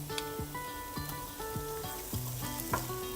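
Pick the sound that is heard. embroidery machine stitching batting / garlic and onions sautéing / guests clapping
garlic and onions sautéing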